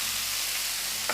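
Chopped spinach and dal sizzle in a hot pan as a spoon stirs them, giving a steady close frying hiss with a brief scrape near the end.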